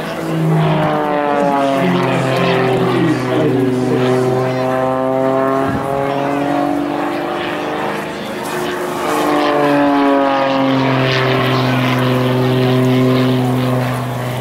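A single-seat S2S propeller aerobatic plane with a more powerful engine performs at the Clacton air show, its droning engine rising and falling in pitch as it passes twice, with a commentator talking over it.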